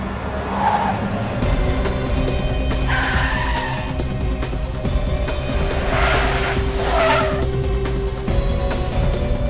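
Car tires squeal in several long screeches over a roaring engine during a truck chase in a CID crime drama, loud and close throughout.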